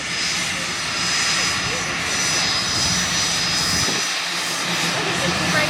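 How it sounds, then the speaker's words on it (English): A private jet's engines roar at Toronto Pearson airport (YYZ). The loud, steady, broadband whine and rumble holds unbroken throughout, with a faint high tone on top. "Private jet! There's a private jet right here."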